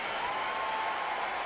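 A boxing-game crowd in Undisputed applauds in a steady, dense wash of clapping with no break, at moderate loudness.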